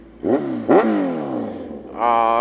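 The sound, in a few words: 2014 Kawasaki Z1000 motorcycle with Austin Racing full exhaust revving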